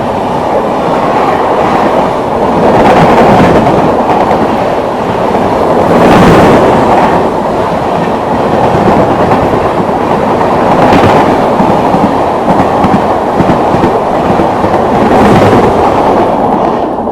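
The Rapti Sagar Express, train 12512, rumbles past at close range, a loud continuous roar with repeating clickety-clack wheel beats on the rails throughout, no voices.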